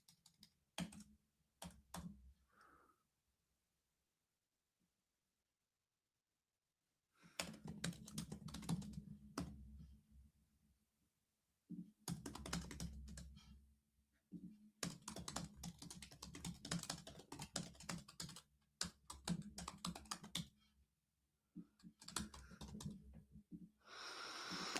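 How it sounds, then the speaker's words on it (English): Bursts of fast typing on a computer keyboard, close and loud, come in clustered runs with a long quiet gap and shorter pauses between them, with no talking. "Right, that's enough of me battering the keyboard."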